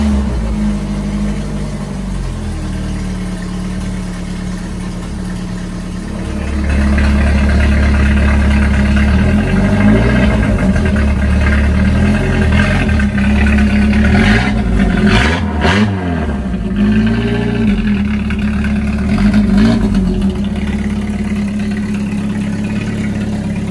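A 1969 Chevy Corvair engine idles with a deep rumble through a custom side pipe exhaust, then revs up and holds a loud, throaty drone, rising and falling through several blips of the throttle.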